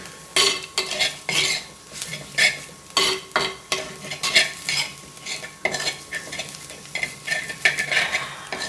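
Garam masala and spices sautéing in a pan, with repeated scraping stirs over a steady sizzle, close and fairly loud with no talking.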